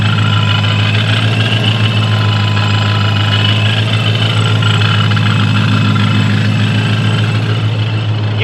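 A supercharged Ford Mustang with a Procharger and an E85 setup idles close by. It gives a loud, steady, deep engine rumble with no break and no talking.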